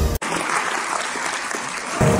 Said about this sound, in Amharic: Clap it up for the 2025 awardee.